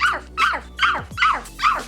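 A woman imitates a big dog's barking with five evenly spaced, loud vocal barks, each a sharp yelping burst falling in pitch, close to the listener.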